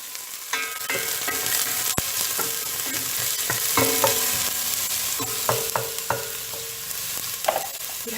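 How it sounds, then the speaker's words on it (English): Onion frying in hot oil in a stainless steel pot for arrowroot soup, a bright continuous sizzle close by, broken by repeated metallic scrapes and knocks of stirring against the pot. "I've put my oil already in this stainless steel pot. It is already hot, and I'll add my onion"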